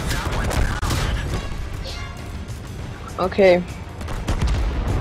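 Machine gun fire from a tank in World of Tanks, loud rapid bursts of gunfire and crashes in a game battle, with a brief spoken word over it.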